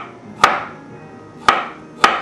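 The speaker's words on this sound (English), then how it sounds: "you can peel the skin of the carrot off if you want, or you can just chop it with the skin on" A knife chopping unpeeled carrots on a board, three sharp close thwacks with uneven gaps between them, loud and clean with no talk.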